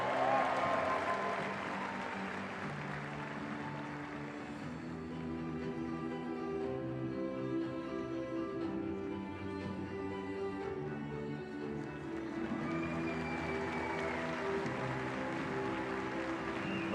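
Sustained applause from a large audience honoring bodybuilding legends at the Arnold Classic, a dense, steady wash of clapping and crowd noise lasting throughout, with music-like tonal layers underneath and no speech.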